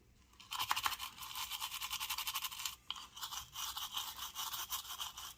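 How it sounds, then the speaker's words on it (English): A toothbrush with rubbing alcohol scrubs a Ford F150 radio display circuit board up close, producing rapid rhythmic bristle strokes in steady bursts with a brief pause midway. "Just a little rubbing alcohol and a toothbrush."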